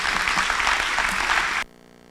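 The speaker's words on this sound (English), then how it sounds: "Can we give one last round of applause to all of the graduates seated here today?" Audience at a senior school graduation ceremony at Oshwal Academy Mombasa gives the graduates a round of applause, a dense steady patter of many hands close and loud that cuts off abruptly near the end.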